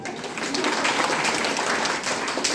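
An indoor audience at a DXN health seminar in Dhakdhai, Nepal gives a short burst of loud, dense applause, continuous throughout and close by.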